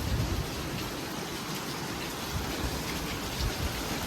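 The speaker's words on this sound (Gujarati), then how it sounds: "તો શું ભારે વરસાદ ચાલુ હતું જોરદાર" Heavy rain pours down steadily in a dense, unbroken hiss, loud and close throughout with no voices.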